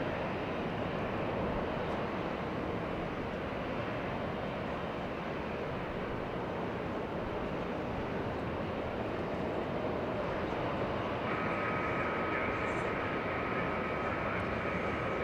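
A 22-year-old Delta Boeing 737 arriving from Seattle at Los Angeles International Airport, its engines a steady, fairly distant broadband roar that holds even throughout, with faint wind noise.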